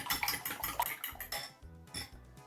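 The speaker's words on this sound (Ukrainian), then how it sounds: "І гарно все все збиваю з яйцем та сіллю." Sunflower oil, egg and salt being whisked briskly in a bowl, quick clinking metal strokes against the sides in rapid bursts, quiet and close.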